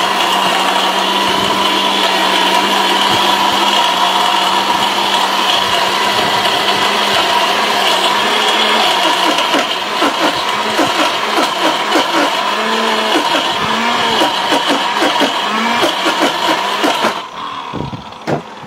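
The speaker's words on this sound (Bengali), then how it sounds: "আমরা চাল রেখে দিয়েছি ভাই। অবশ্যই আমরা চাল দেখাবো।" A powerful steel blender grinds rice with water into paste, a loud continuous motor whine with a churning, sloshing texture that shifts midway and drops off near the end.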